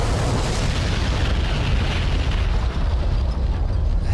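Ordnance released from a jet strikes ground targets in the DCS flight simulator, producing a continuous, heavy rumbling roar of explosions and engine noise that stays loud and dense throughout.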